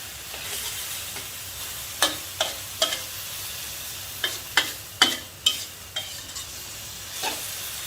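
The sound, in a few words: stir-frying enoki mushrooms with shrimp paste and minced pork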